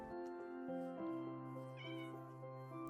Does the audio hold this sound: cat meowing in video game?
yes